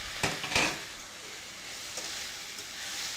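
Diced Roma tomatoes and onions sizzle in a hot pan as they are stirred, with two sharp scraping strokes early on and a soft steady frying hiss continuing quietly throughout, no talking.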